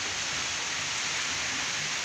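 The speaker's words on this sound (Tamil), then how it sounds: "மழை பெய்து கொண்டே இருக்கிறது" Rain in Chennai falls as a dense, steady hiss, close and continuous, with no clear individual drops standing out.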